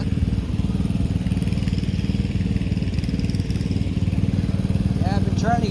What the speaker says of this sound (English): Pump jack.